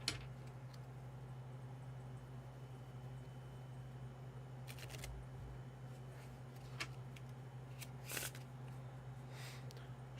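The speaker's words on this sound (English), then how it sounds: "So give this a quick little shuffle." A deck of playing cards being shuffled by hand, a few quick riffling bursts and soft snaps scattered over a quiet room with a low steady hum, fairly faint and with no talking.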